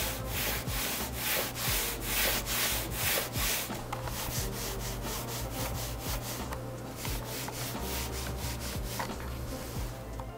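An ONN gaming mouse slides on a mousepad, its feet producing a steady, grippy rubbing scrape in repeated back-and-forth strokes, close and fairly quiet with no speech.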